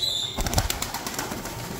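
At a bird auction, a pigeon beats its wings in a rapid burst of close flapping, a soft fluttering clatter that tapers off over a couple of seconds.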